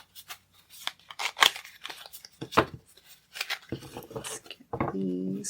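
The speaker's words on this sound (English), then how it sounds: "Let's get these couple more good shuffles." Tarot cards shuffled by hand in a series of crisp riffling and snapping bursts, irregular and close, followed by a low tonal hum near the end.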